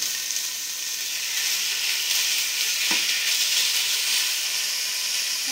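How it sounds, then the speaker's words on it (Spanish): Chicken fajitas frying in a pan, producing a loud, steady hissing sizzle with little variation and one brief knock, no speech. "Ahora vamos a ir sofriendo las fajitas de pollo."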